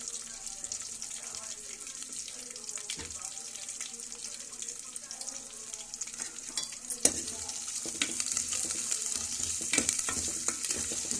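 Dried red chillies and green chillies fry and sizzle in a pan, a steady soft crackle with scraping stirs and occasional clinks, joined by brief water-like splashes later on.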